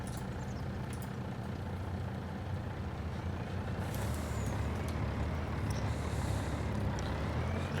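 Heavy truck in the Farming Simulator 25 video game, a steady engine rumble that stays loud and continuous throughout, with a hiss like an air brake partway through and no talking.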